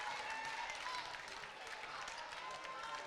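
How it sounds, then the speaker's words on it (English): Student section at a high school volleyball match between NFA and East Lyme cheers and claps as a steady, distant crowd roar with a commentator talking over it, faint and continuous. "That's a gutsy cheer right there by Viking Valley."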